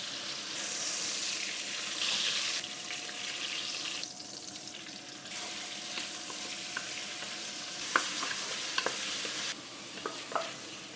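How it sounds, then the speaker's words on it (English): Pork belly browning in batches in a pot for adobo, with a steady loud sizzle and scattered stirring clicks and scrapes near the end, close up, no talking. "Might wanna do this in stages, not to overcrowd our pot. And once we get a little bit of browning, we'll brown the rest."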